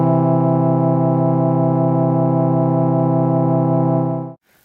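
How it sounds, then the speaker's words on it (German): A sustained major third in equal temperament, held steady and loud for about four seconds with a slow wavering beat like vibrato, then cut off into silence. "Zuerst hören wir eine große Terz in der heutigen Stimmung,"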